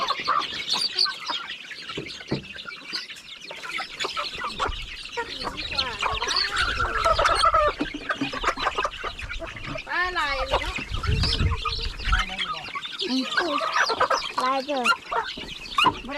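Chickens cluck and call close by on a rice-field farm kept by an elderly couple in the evening, with steady clucking running throughout under ongoing conversation.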